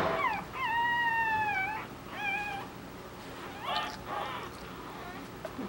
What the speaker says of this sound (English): I hear one of Aliza's babies crying